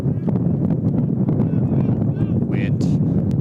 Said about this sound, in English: Wind blowing even stronger, gusts up to 30 miles per hour today